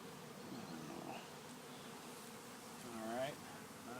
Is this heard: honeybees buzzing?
yes